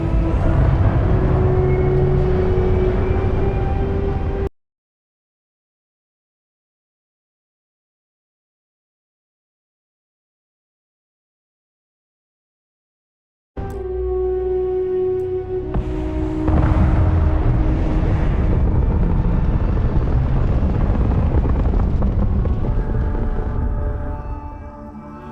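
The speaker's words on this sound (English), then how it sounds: "All thrusters firing." Spaceship thrusters firing in the Starfield game, a loud, heavy, continuous roaring rumble that cuts out abruptly for several seconds and then slams back in at full strength.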